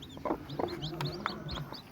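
A Peruvidai country hen clucks in a series of short, soft calls close by, irregular and spaced out over a quiet farmyard background.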